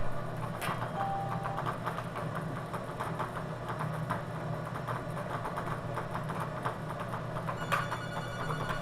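A telephone rings with an incoming caller on a live bingo call-in TV broadcast, a steady ringing that runs throughout over a dense, noisy studio background.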